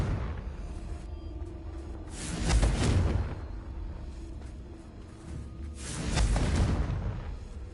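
Two booming blasts from the Confringo fire spell in the Hogwarts Legacy game on PS5, each a soft whooshing swell and rumbling burst a few seconds apart, heard over a quiet background with no talk.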